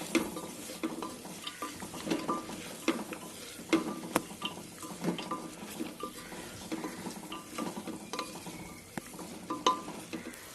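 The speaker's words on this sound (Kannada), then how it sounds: "ಸೋಯಾ ಚಂಕ್ಸ್ ಆ್ಯಡ್ ಆದಮೇಲೆ ಸ್ವಲ್ಪ ಚೆನ್ನಾಗಿ ಮಿಕ್ಸ್ ಮಾಡ್ಕೊಳ್ಳಿ" Soya chunks being stirred into mixed vegetables frying in a pan, a soft continuous sizzle broken by frequent scraping and clinking of a utensil against the pan.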